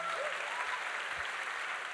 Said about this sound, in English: A round of applause for those folks, please.